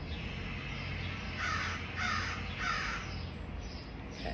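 A crow caws three times in a row, evenly spaced harsh calls at moderate distance over a steady outdoor background hum.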